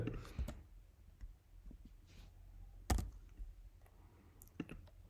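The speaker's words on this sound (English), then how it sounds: "there is so much typing in today's video" Keyboard typing during a coding session, with scattered soft key clicks and taps at irregular intervals, close and quiet, with one sharper click near the middle.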